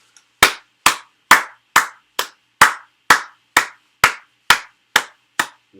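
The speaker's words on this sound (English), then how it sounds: "My hands were clapping together before I even knew what was happening" Hands clap twelve times in a slow, even rhythm, each clap loud, close and crisp with a short decay and silence between the claps.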